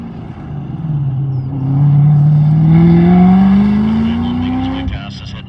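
A C7 Corvette Z06 engine revs hard and rises steadily in pitch as it accelerates on a race track, loud and close, with a voice briefly underneath.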